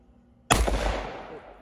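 A Citadel 12 gauge semi-automatic shotgun fires a single loud, close blast that rings out and slowly decays.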